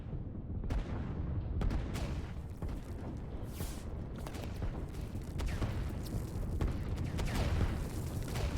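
Artillery fire in the strategy game Line War: repeated booming shots and blasts arrive at irregular intervals over a constant rumbling background of battle noise, with no voices.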